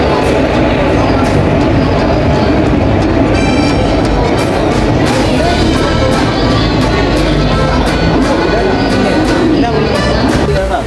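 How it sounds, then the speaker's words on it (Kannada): A train rumbles steadily into an Indian railway station, a dense, continuous mechanical roar with clanking and station clamor throughout, loud and close, while people talk in the background. "ಗೈಸ್ ಈಗ ಬಂದದ ಟ್ರೈನ್ ಹತ್ತೀನಿ."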